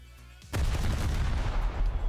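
5-inch naval guns firing in a video game: after a quiet moment a sudden heavy blast starts a dense, rumbling barrage of overlapping booms that stays loud and continuous to the end.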